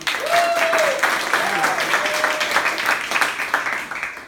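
An improv show audience claps and cheers to vote for a top player, with steady crowd applause throughout and a voice calling out faintly over it.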